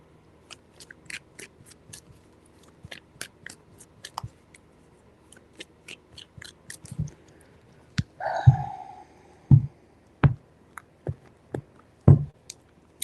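Tarot cards are shuffled close by in a run of quick, crisp flicks and riffling snaps, sparse at first and then a few louder slaps toward the end, with no talking.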